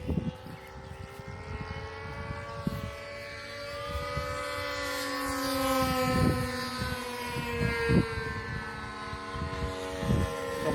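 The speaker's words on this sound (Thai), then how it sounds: "เอาวันนี้วันหยุดมาบินเครื่องบินกัน" Several small model airplanes fly over a field behind a temple on a holiday, their propeller engines whining with shifting pitch as they pass and circle, layered and fairly close, with sharp clicks and knocks scattered through.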